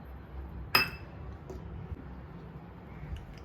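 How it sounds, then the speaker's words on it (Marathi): Yogurt spooned into a mixer jar in a home kitchen, a single sharp metallic clink followed by a few faint taps and quiet room noise. "आता हे दही घेते मी मिक्सरच्या भांड्यामध्ये"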